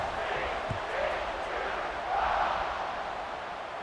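Stadium crowd in the College Football 26 video game roaring steadily during the closing seconds before a kickoff, a dense, sustained wash of cheering that swells slightly midway.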